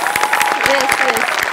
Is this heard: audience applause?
yes